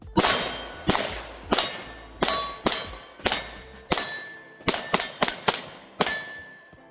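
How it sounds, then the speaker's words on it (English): An HK CC9 pistol fires about a dozen sharp, loud shots at a quick, slightly uneven pace, each crack ringing out and fading before the next. "Let's shoot it kind of faster like the Sig."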